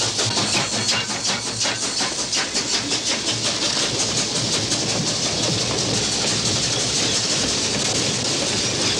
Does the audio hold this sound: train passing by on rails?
yes